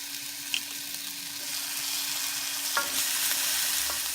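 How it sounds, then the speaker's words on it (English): Minced garlic sizzles in a hot pan with a steady, bright hiss, broken by a couple of sharp utensil clinks as it is stirred. "Now we add our garlic."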